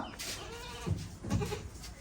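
A Beetal goat on a Punjab farm gives two short, close bleats over a faint background murmur.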